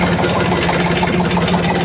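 A tractor engine idles steadily and loudly close by, a continuous low throbbing rumble with no pauses, recorded outdoors in the rain at a Basava Jayanthi celebration.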